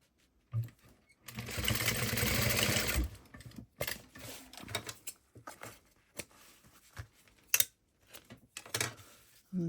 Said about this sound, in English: So we're going to baste these on right here next to the marking.